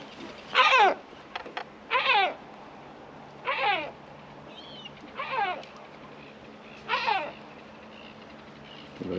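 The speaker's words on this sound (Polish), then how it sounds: "Mewa mnie atakuje." A seagull on a town street in Sortland, northern Norway, gives five loud, harsh calls at roughly even intervals while it attacks, each burst close and sharp against a quiet outdoor background.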